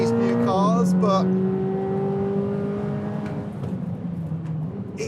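A Corvette ZR1X's 1250 bhp engine roars hard and rises in pitch through quick gear changes, then fades into road noise as the car pulls away.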